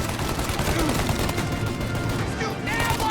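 Dense gunfire rattles on without pause through a firefight in Mafia Definitive Edition, loud and close. Faint voices come through under the shots.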